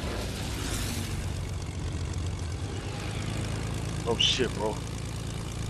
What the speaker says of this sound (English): Someone fly this plane.